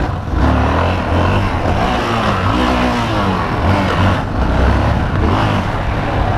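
Yamaha XT 660 single-cylinder motorcycle revving hard up close, engine pitch rising and falling through gear changes with a brief stumble on a missed shift, steady loud exhaust throughout.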